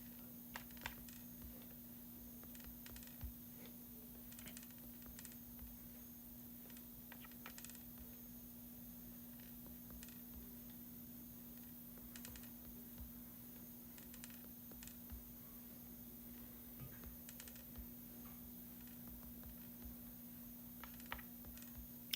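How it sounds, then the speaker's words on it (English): Faint, quick clicks of fingers pressing graphing calculator keys to enter data values, scattered taps over a steady low electrical hum in a quiet room. "so I'm just going to type in my data values"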